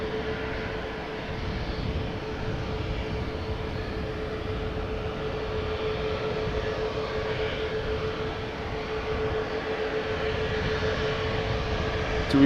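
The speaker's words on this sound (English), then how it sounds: "TUI flight 3455. 737 Max 8 on its way" A TUI Boeing 737 Max 8 airliner, flight 3455 bound for Egypt, rumbles at Amsterdam Schiphol with a steady, moderately distant engine roar and a constant humming tone.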